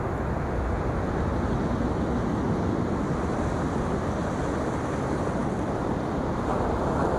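Steady rushing of ocean surf, a continuous loud wash of waves with even intensity and no pauses, heard up close.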